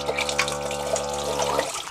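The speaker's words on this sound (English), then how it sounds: "I've got a switch over here, turns on my water." Water runs steadily from the switch-operated tap into a small sink inside a converted ambulance tiny house, a close, continuous splashing rush with a low pump hum that cuts off near the end.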